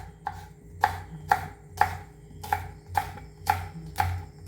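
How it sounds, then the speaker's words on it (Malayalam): Green chillies are chopped with a knife on a board: about seven crisp, evenly spaced chops, one roughly every half second, close and clear over a low background hum, with no talking. "അപ്പോൾ ഇനിയിപ്പോൾ അത് പച്ചമുളകും അതുപോലെ ഒന്ന് ചെറുതായിട്ടൊന്ന് കട്ട് ചെയ്യട്ടാ."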